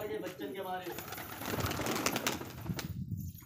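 Pigeons coo outdoors by a wall, soft rolling calls mixed with wing movement while someone talks over them.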